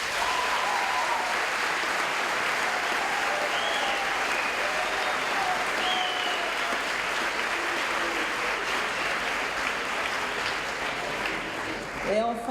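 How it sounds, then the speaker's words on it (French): Sustained applause from an audience at a diploma ceremony, a dense, even wash of many hands clapping that continues throughout, with faint voices mixed in. "d'applaudir toutes ces personnes qui font que vous êtes là aujourd'hui"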